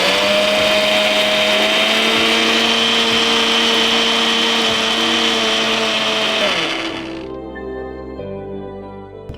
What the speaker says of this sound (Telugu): ఇది మిక్సీ పట్టేసుకుందాం.